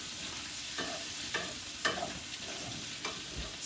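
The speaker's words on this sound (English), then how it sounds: "while she's cooking the shrimp" Shrimp fry in a pan with a steady, quiet sizzle, broken by a few soft utensil taps and stirring scrapes at a moderate distance.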